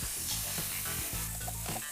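Marinated meat sizzling steadily on a barbecue grill, a dense, close frying hiss with a few soft crackles and no talk.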